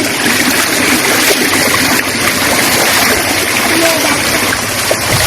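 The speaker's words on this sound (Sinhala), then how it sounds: "මේ රෑලෙකින් යාළුවනේ ගොඩක් වතුර ගිහිල්ලා තියෙනවා." Floodwater rushing steadily through a flooded village, a loud, continuous broadband roar with splashing that stays constant and close throughout, with no talk.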